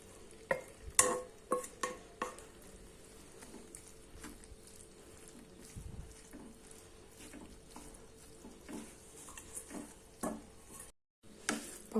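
Cauliflower rice is stirred in a pan with a spoon, giving quiet, irregular scraping and soft clicking strokes that cluster early and then thin out to sparse, faint knocks.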